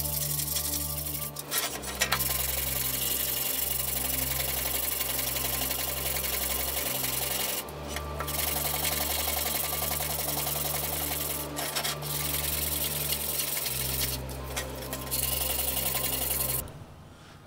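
A nylon fiber brush scrubs rust from the toothed plate of a pruning saw, a steady loud rasping drone under a constant machine hum, broken by a few short pauses.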